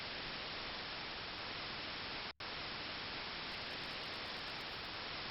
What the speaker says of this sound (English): The television screen is filled with white noise once again.